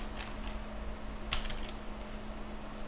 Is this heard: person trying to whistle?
no